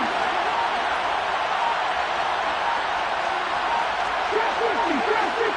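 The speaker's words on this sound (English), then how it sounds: "the crowd getting into it as we come up on a big third down" Dense football stadium crowd building into a loud, steady roar ahead of a big third down, continuous and enveloping with a commentator's voice running over it.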